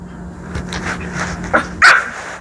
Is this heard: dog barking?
yes